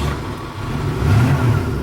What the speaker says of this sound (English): One of the last probably startups with stock exhaust